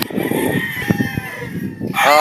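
A Boston sweater cross game fowl rooster on a game farm in Batangas crows loudly and close, the drawn-out call rising at the end over a background of other birds and farm noise.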